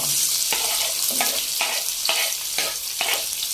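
Chopped onions frying in oil with fennel, cumin, star anise, cardamom, cinnamon and bay leaf, a loud continuous sizzle broken by regular spatula stirs about every half second, with no voice.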